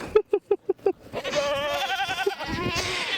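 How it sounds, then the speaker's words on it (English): Goats bleat in a backyard in Arizona, a quick run of five short close calls followed by a longer wavering bleat, with a further bleat and more animals calling behind. "Here come the goats."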